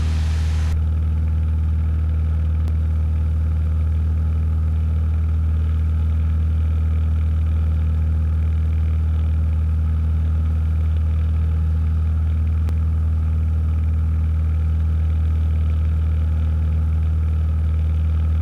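A Cessna 172 engine drones loudly during climb-out, a deep, constant hum that holds evenly throughout, heard from inside the cabin with no talking.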